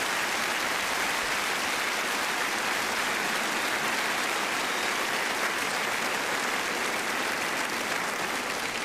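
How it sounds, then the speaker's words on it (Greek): Sustained applause from a live concert audience, steady and dense throughout with no speech on top, like a full crowd clapping after a song. "Ένα μεγάλο χειροκρότημα στην Αμερική στον κύριο Τζούκερο."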